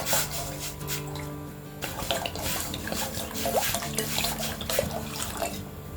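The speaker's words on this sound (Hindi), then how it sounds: "पैन में डालेंगे ये पानी।" Water pouring from a tap into a cooking pan on a gas stove, a steady close splashing rush lasting throughout, with clattering and small knocks mixed in.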